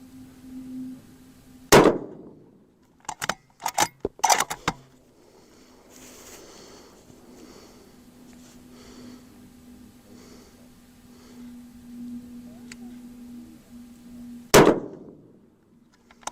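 Two sharp rifle shots with an MDT Oryx chassis, each a loud crack, with a quick burst of metallic clanks between them and a low steady hum underneath.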